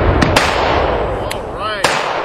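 A small black-powder howitzer fires a round at an outdoor range, a few sharp bursts standing out over steady background noise, followed by a brief fading whistle.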